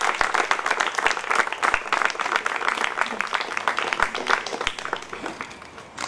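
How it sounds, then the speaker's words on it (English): An audience applauds steadily for several seconds, a dense wash of many hands clapping that fades slightly toward the end. "A big round of applause for Margaret Mascarenhas, please."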